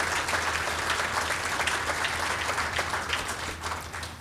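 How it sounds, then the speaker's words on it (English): An audience at a Manufacturing Day opening and keynote claps steadily for several seconds, a dense wash of hands that is moderately distant and fairly quiet, with no voices over it. "Can you give all of them a round of applause"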